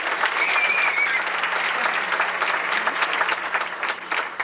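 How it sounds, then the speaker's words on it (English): Audience applause for contestants at a 1989/90 high school pageant in Duncan, South Carolina: sustained, crowded clapping filling the room evenly, loud and continuous with a slight fade at the end. "Let's give all of our contestants a big round of applause."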